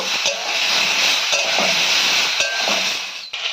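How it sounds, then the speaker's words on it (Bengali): Ginger and green chili paste sautéing in hot oil in a pan with fried eggplant and potato, a loud continuous close hiss of sizzling with a few brief stirring knocks. "আদা আর কাঁচা লঙ্কা দিয়ে হালকা করে একটু কষিয়ে নেব"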